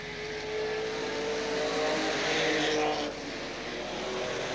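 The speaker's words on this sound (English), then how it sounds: "Stuart Donnell goes past the back marker" A 3-litre Ford Capri racing on a circuit, a steady engine drone that rises slightly as the car passes, heard from trackside at a moderate distance without commentary.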